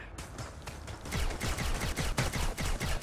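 Rapid gunfire in a VR shooter video game, a quick run of dense, loud shots that starts after a brief lead-in and continues to the end.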